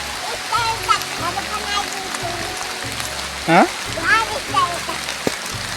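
Rain patters steadily in a jungle as a broad hiss beneath people talking, with a few louder splashy bursts standing out.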